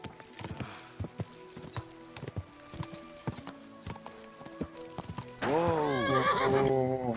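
In the video game Kingdom Come: Deliverance 2, a horse's hooves clip-clop in an irregular walking rhythm for several seconds, followed by a loud, close whinny that rises and falls in pitch.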